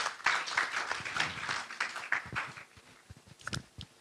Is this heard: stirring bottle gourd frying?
no